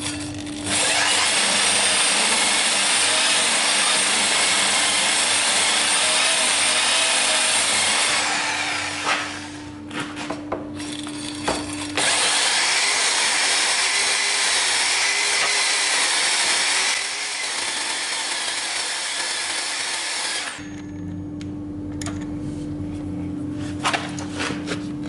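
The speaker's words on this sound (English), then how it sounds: "take some drill with the wire brush on the drill" On a Honda VTR 1000 Firestorm motorcycle, an electric drill spins a wire brush against a part in long, loud, continuous runs with brief pauses and a steady motor hum, close up and without talk.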